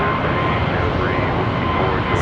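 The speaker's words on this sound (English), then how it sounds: "American Airlines 1452, going to be an A321neo" American Airlines Airbus A321neo departing Charlotte Douglas for Chicago, a continuous jet engine roar under a brief faint distant whine, steady and fairly loud across the short stretch.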